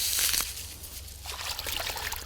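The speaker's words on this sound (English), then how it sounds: "Rinse off the excess water and we're done." Rinse water runs and trickles off a handful of endive leaves, a steady splashing stream that swells, pauses briefly and returns, close and fairly loud with no talking.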